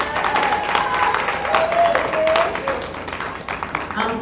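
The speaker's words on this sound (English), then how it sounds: "So we want to give a round of applause for her." An audience at a music and fashion showcase claps for the show's partner. The applause is a dense, sustained wash from a crowd, with some whistles or cheers mixed in, continuous throughout.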